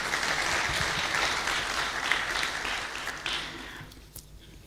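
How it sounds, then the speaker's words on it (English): Audience applause at a conversation event, a steady crowd of clapping hands held at an even level for several seconds before thinning and tapering off near the end. "I think he deserves an applaud on that."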